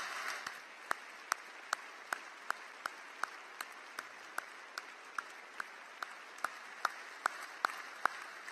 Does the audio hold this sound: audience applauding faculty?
yes